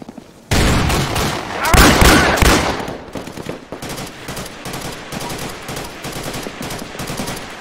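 Heavy automatic gunfire in the video game Insurgency: a loud dense burst that gives way to steady repeated shots firing in a quick rhythm, close and prominent, with no talk.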